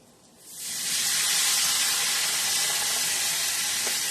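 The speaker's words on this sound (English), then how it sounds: "we're going to deglaze the pan with some of this" Wine poured into a hot pan to deglaze it, bursting into a loud, steady steam hiss after a quiet moment and sustaining broad sizzling right up close.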